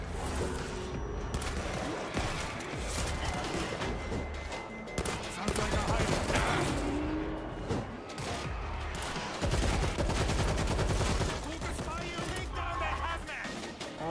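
Dense, sustained gunfire from the World War Z video game while clearing infected in Tokyo, with rapid overlapping shots and bursts running continuously and loudly throughout.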